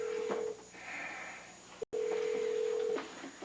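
Telephone line tones during a call: a sustained tone, a short break, then another long steady tone, fairly quiet with faint room sound behind.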